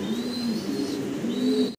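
A yellow fantail pigeon from a pair coos nearby, giving a steady, drawn-out tonal call that is close and fairly loud for under two seconds.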